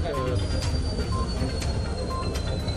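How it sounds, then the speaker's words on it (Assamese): A special train carrying oxygen tankers pulls into Amingaon station in Assam, a steady rumble of rail cars with recurring high wheel squeal and faint background voices throughout. "অক্সিজেন লৈ আমিনগাঁৱত উপস্থিত বিশেষ ৰেল।"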